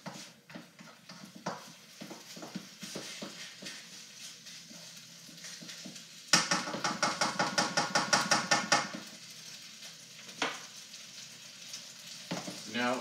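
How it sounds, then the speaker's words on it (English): Duck fried rice stir-fried in a pan: a steady sizzle under scattered spatula taps, then a burst of rapid rhythmic scraping and clacking as the rice is tossed and mixed, settling back to frying. "Our rice is now loosened up here quite a bit for us here. And mix it all together here."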